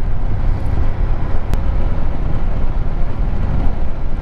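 KTM 390 Adventure motorcycle riding along a forest road, a steady low engine drone mixed with wind rush, continuous and close throughout.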